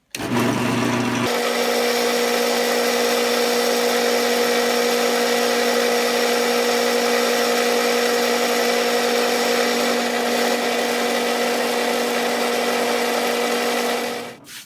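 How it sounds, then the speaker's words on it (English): A power drill with a Forstner bit bores bearing holes into a wooden fidget spinner, a loud, steady high whine that runs unbroken for several seconds and cuts off at the end, with no talking. "we'll go out and drill out all the holes"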